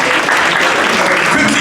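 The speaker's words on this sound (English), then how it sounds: "let's give him a big round of applause" Crowd applause for a boxer at a boxing promotion press conference, a dense, steady wash of clapping close by, with voices blending into the noise throughout.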